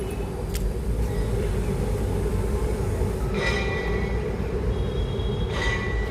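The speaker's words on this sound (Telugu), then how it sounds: "ఇదిగోండి ఇంకో ట్రైన్" A train rumbles steadily past nearby, a constant loud roar of wheels on rails with occasional metallic squeals.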